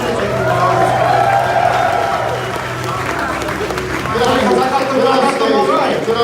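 Live audience at a comedy stage show applauding a contestant named Brad: sustained dense clapping with crowd chatter mixed in, loud and continuous, easing slightly midway before swelling again.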